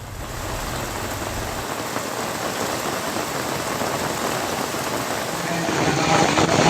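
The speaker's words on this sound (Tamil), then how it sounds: "மயிலாடுதுறை சுற்றுவட்டார பகுதிகளில் இரண்டாவது நாளாக 1 மணி நேரத்திற்கு மேலாக கனமழை கொட்டி தீர்த்து வருகிறது" Heavy rain pours down steadily over the Mayiladuthurai area of Tamil Nadu, a dense, unbroken roar of downpour on surfaces that grows slightly louder toward the end, with no voices.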